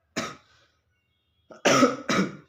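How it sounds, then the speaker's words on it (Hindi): A single cough, then a pause and two more harsher coughs close together, close to the microphone with silence around them. "सॉरी, मुझे खांसी है तो थोड़ा इग्नोर करें इन चीज़ों को।"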